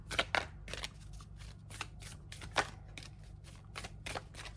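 Tarot cards are shuffled close up in a run of quick, crisp riffling bursts with short pauses between them, and no talk over them.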